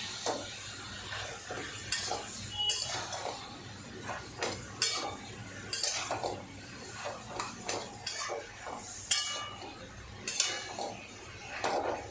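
Taro greens with chickpeas, coconut and green chilli are stirred in a pan, a steady run of scraping and clinking from the spatula over a low sizzle, close by, with no one speaking.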